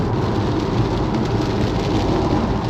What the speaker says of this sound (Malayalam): നോക്കിക്കേ, മഴ കൂടി